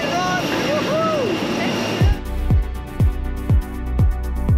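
A passenger airplane engine on a domestic flight in Vietnam drones loud and steady. A series of regular rhythmic thumps follows. A voice is heard briefly at the start.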